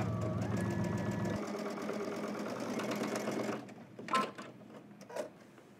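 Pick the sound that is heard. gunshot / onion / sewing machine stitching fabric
sewing machine stitching fabric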